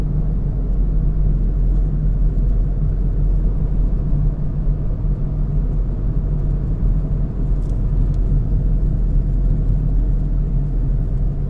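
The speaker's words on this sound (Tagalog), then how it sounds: "Maluwag pa ngayon ang traffic dahil umaga pa lang, hindi pa rush hour." Road traffic on Commonwealth Avenue, Quezon City, in light morning flow: a loud, continuous low rumble of engines and tyres, steady throughout with no clear individual pass-bys and no talk.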